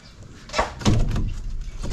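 Small wooden door on a bahay kubo mini house being pushed shut, a single close, solid thunk with a brief rattle after it.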